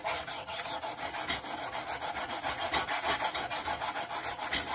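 A file rasps back and forth along the bevel of a knife being made from a lawnmower blade, producing a steady, rhythmic series of close, gritty strokes of roughly even pace, with no talking.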